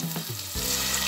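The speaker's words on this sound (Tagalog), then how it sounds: "Pinatupula yung bawang." Garlic fries in a pan in a Filipino home kitchen while tilapia and misua are cooked, a steady close hiss and sizzle that swells and brightens partway through, with no voices.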